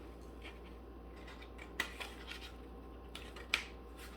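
Scissors snip a few quick, close cuts through paper or clear tape at a craft table, two sharp crisp snips standing out over faint rustling and a low steady hum, with no talking.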